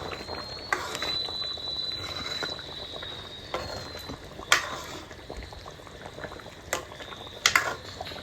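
Chicken gravy bubbles in a covered pot, a faint steady simmering hiss with scattered soft pops and bubbles throughout.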